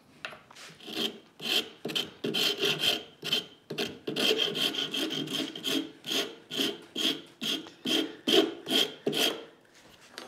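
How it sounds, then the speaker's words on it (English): A hand-held saw rasp shapes a wooden pin for a no-glue, no-screw book rack, with rhythmic rasping strokes repeated at close range, about two per second, with no talk. "we can shape it with the saw rasp"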